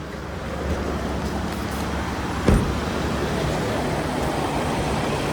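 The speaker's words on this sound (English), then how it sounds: "start the car." A 2015 Kia Optima engine idles steadily after starting, a constant broadband rumble with a brief louder burst near the middle, heard up close with no talking.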